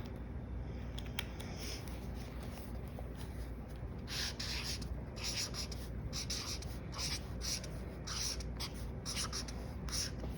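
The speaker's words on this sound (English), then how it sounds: "Let's write it and mark it up." Pencil writing a word on paper and marking it up, a steady close scratching with bursts of brisk strokes over a constant background hiss.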